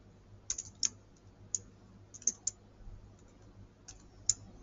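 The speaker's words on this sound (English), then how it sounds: "if I type in 10x plus 5" Sparse key presses on a computer keyboard: a handful of sharp, light clicks in an irregular rhythm over a quiet background, close by and without speech.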